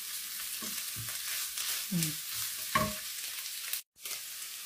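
Boiled ground beef with vegetables sautés in a pan, sizzling steadily, with several spoon scrapes and stirs and a brief clank. The sound is near and moderately quiet, with no talking.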